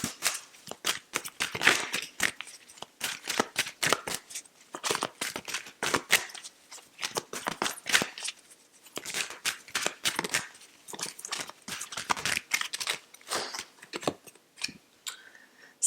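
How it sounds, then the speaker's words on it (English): Tarot or oracle cards being riffled and shuffled by hand, a dense run of crisp snapping flicks in bursts with brief pauses, close and fairly quiet, no talking. "we're going to shuffle these out now"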